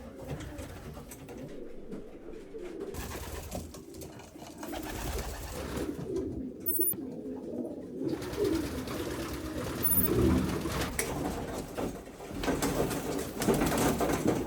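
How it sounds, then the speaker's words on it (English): Racing pigeons selected as one-loft race entries coo steadily and softly nearby, a continuous low murmuring of several birds with occasional brief higher chirps and rustles, no talking. "Here are the birds that I pre-selected to be my AGN entries this year"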